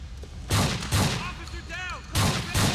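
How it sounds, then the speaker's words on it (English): Gunfire in Grand Theft Auto IV: four loud, sharp shots come at uneven intervals in a firefight, with a voice talking briefly in the gap between them. "Who the hell are you even shooting at, Nico?"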